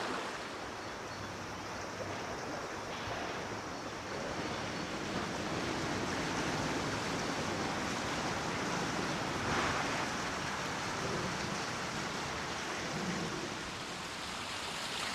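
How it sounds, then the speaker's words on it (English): Millions of litres of water rush out of a narrowboat canal lock, a steady, loud, broadband roar that surges continuously from start to finish with no voices. "Each lock operation uses several million litres of water, and it's all let out in a matter of a minute or so."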